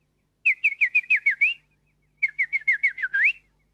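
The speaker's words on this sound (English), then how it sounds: "Went all the birds." A bird sings two quick trilling phrases of repeated whistled notes, clear and close, separated by a short pause.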